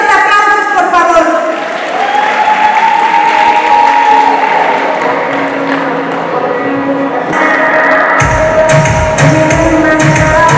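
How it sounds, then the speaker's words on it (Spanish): Audience applause at a fair queen candidate presentation, the Feria de la Naranja, sustained and steady throughout, with crowd noise and music tones mixed in. "Que se escuchen los aplausos, por favor."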